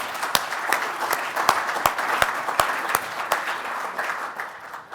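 Audience applause at a Rare Breeds Survival Trust reception honouring the Shropshire Sheep Society, steady indoor clapping from a modest crowd with a few sharp nearby claps standing out.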